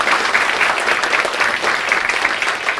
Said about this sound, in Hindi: एक बार तालियां दिशा मैम के लिए।